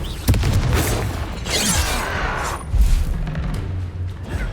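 Confringo blasting spell in the Hogwarts Legacy video game detonates with a loud booming burst, followed by a rolling crackle and a second heavy thump, alone over a dense game soundscape.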